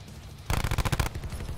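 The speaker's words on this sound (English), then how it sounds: "Who's shooting?" A short, rapid burst of automatic gunfire in Call of Duty Black Ops 4, about half a second of fast, loud repeated shots that end abruptly, followed by a quieter background.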